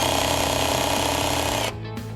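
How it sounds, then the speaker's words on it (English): A Bosch GSR 120-LI cordless drill drives a screw at clutch setting 1, its loud steady motor whine and rapid ratcheting clutch clatter running continuously before cutting off near the end. "To adjust the clutch, align the arrow to a lower setting and start driving a screw"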